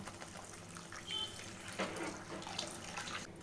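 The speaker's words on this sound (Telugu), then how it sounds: "కర్రీకి కావాల్సినంత వాటర్ని కూడా యాడ్ చేసేద్దాం" Water pours steadily into a pot of tamarind fish curry, a soft continuous splashing trickle heard close up and fairly quiet, with no talking.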